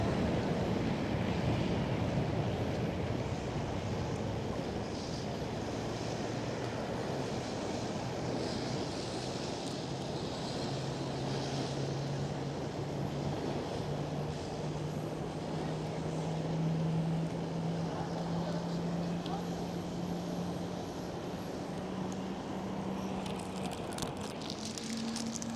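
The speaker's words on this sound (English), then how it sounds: "A330 departure." A KLM Airbus A330 departs Schiphol runway 24, a sustained distant jet roar with a slowly rising engine whine building across the takeoff roll under a broad wash of wind noise.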